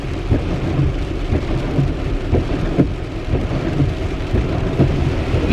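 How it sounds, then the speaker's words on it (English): Rain drums steadily on a Tesla during a morning drive, with low rumbles of thunder rolling underneath and scattered sharper drop hits on the car body throughout. "it's raining pretty good out here"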